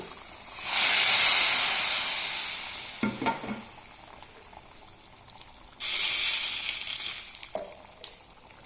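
Hot tempering poured into a Thrissur-style fish curry bursts into a loud, close hissing sizzle that slowly fades, followed by stirring clinks and a second sharp sizzle surge, with no talking.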